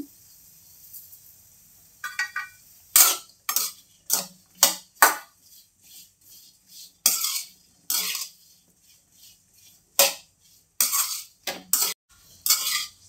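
A spatula stirs mushroom masala seasoned with turmeric and salt as it fries in a pan, giving a series of sharp metallic clinks and scrapes in irregular clusters, close and fairly loud, with quiet gaps between them.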